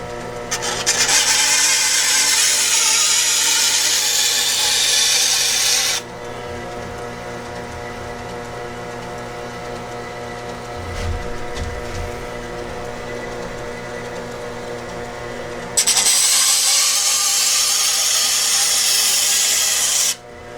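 Knife with a convex edge ground against a power sharpener, a loud steady broadband grinding that runs for several seconds, drops to a quieter hum of the running machine, then resumes at full strength near the end.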